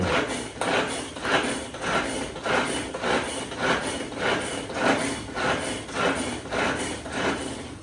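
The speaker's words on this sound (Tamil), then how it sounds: "சூப்பரா தக்காளி நல்லா பொடி பொடியா கட் பண்ணிருச்சு" A hand-pulled manual food chopper finely dicing tomatoes in a home kitchen, its blades whirring in a steady run of about a dozen quick, rhythmic pulls, loud and close, with no talking.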